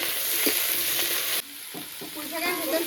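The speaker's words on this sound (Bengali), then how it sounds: "খুব ভালো করে একটু ভেজে নেব। তার আগে একটু স্বাদ মতো লবণ, অল্প একটু হলুদ গুঁড়ো, ভালো করে এবার পুঁই শাকটা ভাজবো" Malabar spinach seasoned with salt and a little turmeric sizzles steadily in a hot pan while it is stirred, a constant close frying hiss with soft scraping stirs and a brief dip partway through.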